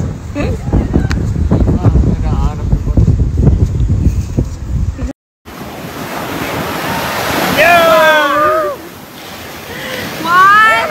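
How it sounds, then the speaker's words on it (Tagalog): Strong ocean waves surge loudly at Boracay beach, a steady roar of surf with heavy wind buffeting the microphone, a brief dropout midway, and voices calling out over the water in the later part. "napakalakas ng alon dito"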